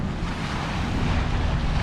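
Steady blustery wind roaring across an open microphone on the coast at Weipa, with a low rumbling buffet and a wash of surf-like noise throughout.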